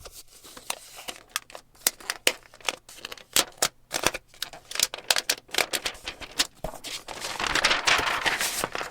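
Packaging for an Apple iPad Air 13 (2026) Wi-Fi + Cellular is handled and unwrapped up close: a busy run of crinkling, tearing and sharp plastic or cardboard clicks, building to a denser rustle at the end.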